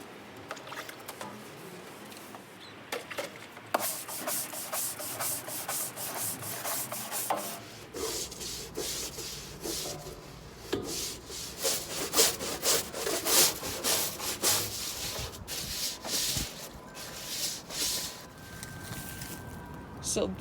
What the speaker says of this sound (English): now we're just going to add another coat of the deck wash, and we're going to scrub it a little.